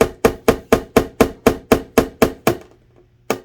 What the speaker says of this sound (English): Now we're going to hammer them in all the way around.